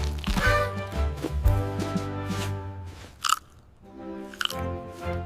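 Crunchy cookies being chewed in a few bursts of bites and crunches over a bright children's Christmas song, close and fairly loud.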